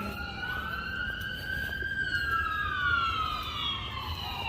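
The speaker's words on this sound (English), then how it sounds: "I didn't realize how long sirens were until like right now." A siren wails steadily, its pitch rising and falling slowly, loud and fairly close, with traffic rumble underneath and no one speaking.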